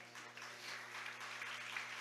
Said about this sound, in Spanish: ¿No dan fuertemente ese aplauso al Señor?